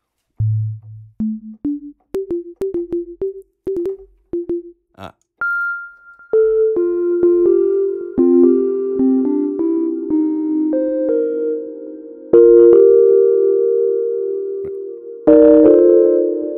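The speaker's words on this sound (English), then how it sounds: "There's just a single sample with delay on it" A plucked synth sample from the Serum synthesizer, with delay, plays a short melodic run, each note followed by fading echoes that pile up into a sustained, layered tone.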